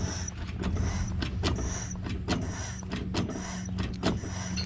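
Brake pedal being pumped while bleeding the brakes on a 1961 Pontiac Laurentian, a repeated mechanical creak and clunk in an uneven rhythm, close and fairly quiet, with no talk.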